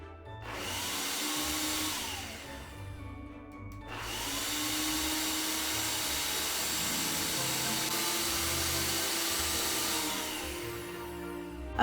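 A blender whirs through a raw vegan peppermint filling made with peppermint extract and spirulina, running in two long steady bursts separated by a short pause, a loud motor whine with shifting pitch as the mixture churns.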